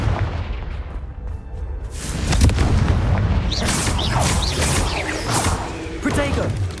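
A Confringo fire spell explosion in Hogwarts Legacy, a loud booming blast with rushing whoosh that sustains for several seconds, up close and heavy, with a game voice shouting over it.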